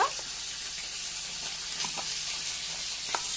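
Cinnamon, turmeric, black pepper and onion frying in a pan for an Odia-style fish curry: a steady, soft, hissing sizzle with a few faint stirring clicks.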